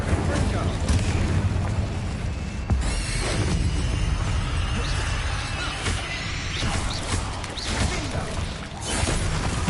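Incendio fire spells cast in combat in Hogwarts Legacy on PS5: a continuous, loud roar of fiery blasts and crackling booms, with repeated impacts layered densely throughout and no pauses.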